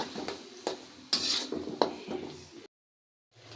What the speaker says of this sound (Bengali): এখন এই মশলাটা আমি ভালো করে 5 মিনিট কষিয়ে